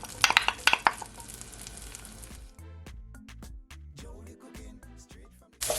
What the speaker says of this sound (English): I'm gonna firstly add my onion